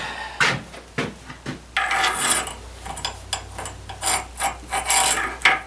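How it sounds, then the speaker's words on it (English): A grease gun is pumped into a vehicle driveshaft fitting, giving close, repeated ratcheting mechanical clicks and squelching strokes in a steady rhythm, with no speech. "Grab the grease gun."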